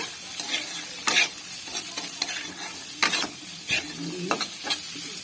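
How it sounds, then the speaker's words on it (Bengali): Potatoes and chickpeas frying in a pan are stirred with a utensil, giving steady close scraping strokes in irregular bursts over a low, continuous sizzle, with no voices. "দেখুন আমি আবারও সবগুলি ভালোভাবে নেড়ে নেব।"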